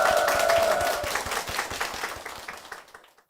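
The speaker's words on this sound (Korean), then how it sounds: "박수로 모시겠습니다" Church congregation applauding as an elderly couple is welcomed forward, a dense wash of many hands clapping that fades gradually over a few seconds.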